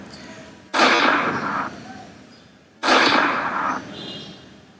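Two synthetic gunshots from a simple C# video game, each a sharp, loud blast trailing off over about a second, spaced roughly two seconds apart with quiet between.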